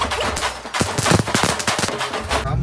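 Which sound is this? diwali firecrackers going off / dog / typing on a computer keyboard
diwali firecrackers going off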